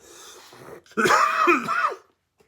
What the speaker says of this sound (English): I've had that cough sitting right on the edge for a little bit.